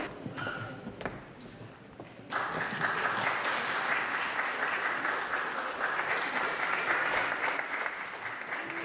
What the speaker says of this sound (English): So I would like to applaud.